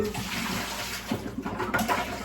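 Tap water splashes and gurgles steadily as a container just used for making homemade laundry soap is rinsed out, close and continuous.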